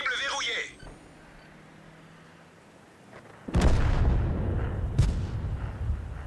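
A tank gun fires in World of Tanks, one heavy booming shot partway through followed by a rumbling tail and a second sharp report, after a brief burst of voice-like game audio at the start.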